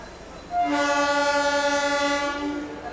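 A slow-moving DEMU passenger train on the line near Proddatur railway station sounds a long, loud, steady horn, close by over a low rumble of the running train.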